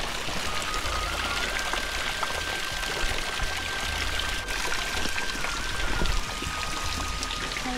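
Water pours from several spouts in a steady, continuous gush, a dense rushing and splashing that holds close and fairly loud for the whole stretch, with no voices over it.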